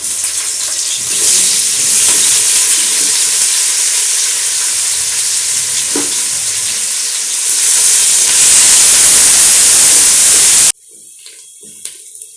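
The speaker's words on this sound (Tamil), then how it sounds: "நல்லா கோல்டன் கலராக ஆகிறவனும் பொன்னிறமாக வரவனும் நல்லா வதக்கிட்டே இருங்க" Sliced onions sautéing in hot oil in a pan for country chicken biryani make a loud, steady sizzle and hiss for about ten seconds, then it cuts to a much quieter stretch with faint crackles.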